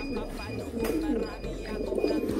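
Pigeons cooing close by in a breeding loft, low rolling coos repeating over a few seconds while someone talks over them.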